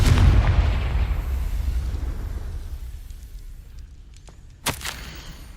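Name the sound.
Confringo fire spell explosions in video game Hogwarts Legacy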